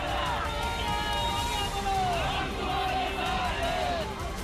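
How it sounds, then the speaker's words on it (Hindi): A crowd of supporters massed outside a ministerial bungalow, a dense, steady hubbub of many voices with scattered shouts and whoops, loud and close throughout, with traffic noise mixed in. "बंगले के आगे भीड़ लग गई।"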